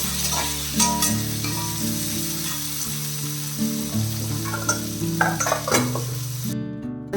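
Dried red chili, shallots and garlic fry in hot oil with a loud, continuous close sizzle, broken by scraping stirs and the clink of a utensil against the pan, with no talking.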